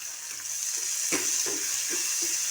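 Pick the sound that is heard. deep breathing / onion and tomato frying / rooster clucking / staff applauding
onion and tomato frying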